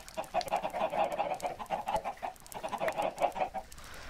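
Chickens in a Minecraft coop cluck steadily and overlap one another, a busy flock of repeated clucks heard close and alone with no talk over them.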